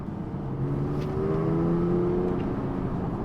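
A car engine revs steadily upward with rising tonal whine as it climbs through gears under acceleration, loud and close from inside the cabin with no talk.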